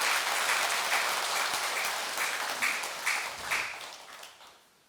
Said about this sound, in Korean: 우리 오늘 주지 스님한테 박수 한번 보내주시기 바랍니다